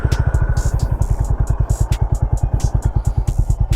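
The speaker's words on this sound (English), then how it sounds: "let's just listen to the exhaust note of this motorcycle." A Honda H'ness CB350 motorcycle exhaust idles close by with a steady, fast, even chug, loud and alone.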